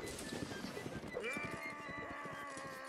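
Horse hooves clip-clopping in a video game battle, a quick run of steady close hoofbeats with a brief tonal squeal partway through, heard over a background of game noise.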